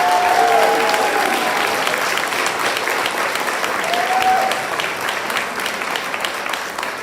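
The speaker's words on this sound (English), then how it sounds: "let's give them a round of applause" A crowd at a high school senior awards ceremony for the class of 2023 gives a loud, sustained round of applause, dense clapping from many hands that fades slightly toward the end.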